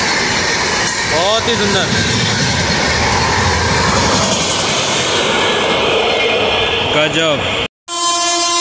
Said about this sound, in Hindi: पूर्वोत्तर संपर्क क्रांति एक्सप्रेस अलीगढ़ जंक्शन से निकलते हुए